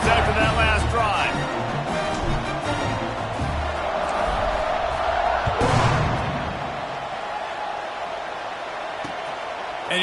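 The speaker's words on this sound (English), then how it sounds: "this crowd is feeling themselves after that last drive" Stadium crowd roaring and cheering during a kickoff in the College Football 26 video game, a continuous loud wash of crowd noise with a swell midway, heard beneath commentary.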